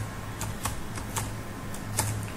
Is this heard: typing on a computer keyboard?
yes